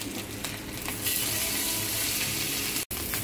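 Steady, bright sizzling of semolina-coated bangada mackerel slices frying in oil in a pan, a continuous close hiss with small crackles, briefly cutting out near the end.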